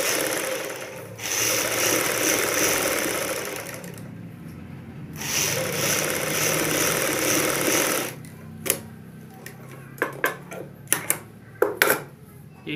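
A sewing machine stitches along both sides of a small V-neck piece, running in two long steady bursts with a pause between, then giving way to scattered clicks and handling taps near the end.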